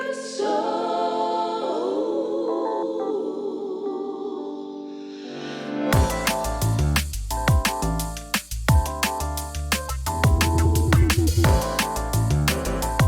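Drum and bass track with funk basses glued by distortion, OTT and EQ: a sustained synth intro with a riser, then the full dense mix drops in with punchy drums and heavy bass, loud throughout and without speech.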